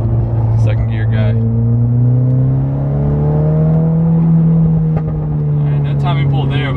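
A Volkswagen Golf R MK6 that burns oil accelerates in second gear. Its engine drones loudly and climbs steadily in pitch, heard from inside the car. Someone speaks briefly at the start and the end.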